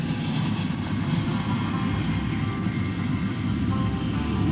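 A fixed-wing military training airplane drones in a steady, loud broadband roar from inside the flight, with no talk over the engine noise.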